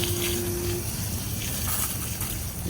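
Tap water runs in a steady, close, even gush to water a freshly repotted plant, with a low rumble underneath and no pauses.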